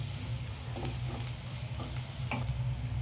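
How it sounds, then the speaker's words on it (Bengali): Onions frying in oil in a pan before chicken is added, an even low sizzle punctuated by a few light scraping stirs, close up and with no one speaking. "এই চিকেনটার জন্য পেঁয়াজটা খুবই ভালো করে ভেজে নিতে হবে।"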